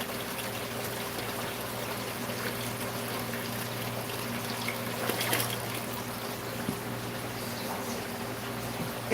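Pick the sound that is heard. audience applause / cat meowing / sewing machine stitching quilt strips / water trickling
water trickling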